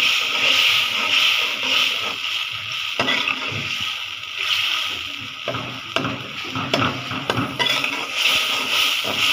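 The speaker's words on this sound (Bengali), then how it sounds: "এই তো মশলাটা কষানো শেষ" Spice paste sautéing in a pan for a fish curry, with steady stirring and scraping of a utensil against the pan over a continuous sizzle, close and moderately loud, with no talking.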